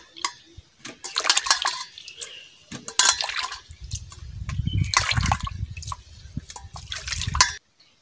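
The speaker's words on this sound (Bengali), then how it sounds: "এবারে ভালো করে ধুয়ে নেব।" Water poured from a bucket with a plate to wash something, splashing and dripping in uneven bursts up close, with a lower rushing pour in the second half before it stops abruptly.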